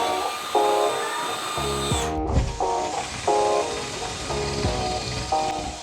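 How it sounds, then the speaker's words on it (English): A drill bores a hole up into garage ceiling sheetrock, with several short bursts of whirring as the bit starts and stops, close and fairly loud over a steady background hum. "I'm now gonna drill out the hole"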